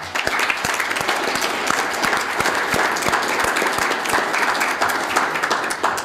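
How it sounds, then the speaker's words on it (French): Audience at a public community meeting applauds a constable being honoured, continuous loud clapping with distinct individual claps throughout and no clear speech. "On peut lui donner une bonne main d'applaudissements."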